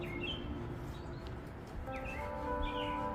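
Distant birds call and chirp outdoors during a solar eclipse, faint short whistled notes scattered over a low, steady background murmur.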